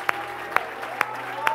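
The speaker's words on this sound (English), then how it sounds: "Come on, clap those hands and give the Lord." Slow, sparse hand claps ring out at a church worship service, four distinct claps spaced about half a second apart over a steady background hum.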